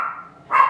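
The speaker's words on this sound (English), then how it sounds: "Oh, sorry about my dog." A pet dog indoors gives a brief, sharp bark or yelp, close and fairly loud, with no voices.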